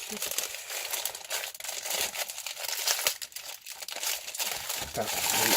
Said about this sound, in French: Je sais pas si je devais déballer ça. Sûrement, d'après moi, c'est une pellicule de plastique qui est mis dessus.